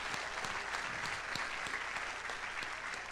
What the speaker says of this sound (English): yes, you should applaud that.